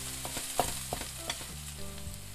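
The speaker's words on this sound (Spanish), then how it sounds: "Lo vamos a dar vueltas para que se vaya haciendo nuestro sofritito." Onion and garlic sofrito fries over low heat in a pan and is stirred. A steady close sizzle runs under several soft scraping stir strokes. No one speaks.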